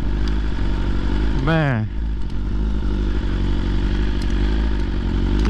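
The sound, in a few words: riding a 1000cc motorcycle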